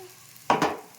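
Pieces of fish curry tossed in a hot pan, a short sudden burst of sizzling and a shuffling rattle that quickly fades back to a faint simmer.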